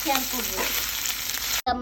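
Chicken sizzles loudly in a frying pan with steady crackling and a few stirring scrapes, cutting off abruptly near the end before a brief return.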